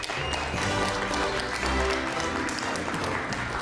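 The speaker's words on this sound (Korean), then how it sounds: "이럴 때는 박수도 쳐 괜찮아요" An audience claps together in a steady burst of applause, filling the room with dense, continuous clapping.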